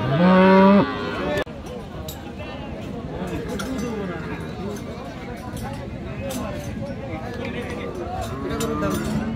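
Friesian dairy cows with calves at Raniganj cattle market in Dinajpur, one loud, close moo at the start and another fainter lowing near the end, amid continuous market chatter and voices.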